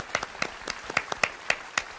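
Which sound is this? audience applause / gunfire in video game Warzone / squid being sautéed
audience applause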